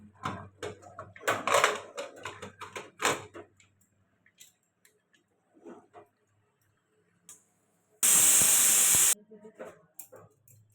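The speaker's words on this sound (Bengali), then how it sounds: "এবার এটা আরও দুটো সিটি দিয়ে দেবো" A pressure cooker cooking goat mutton lets out one loud, roughly one-second steam whistle near the end, after stretches of quieter kitchen clatter and thumps.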